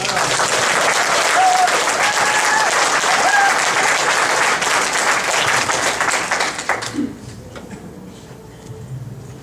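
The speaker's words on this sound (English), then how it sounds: "Let's give her a round of applause" Church congregation applauding during a Sunday service, a dense steady wash of clapping for about seven seconds that then drops off abruptly, leaving a quiet room with faint stray sounds and a few murmurs.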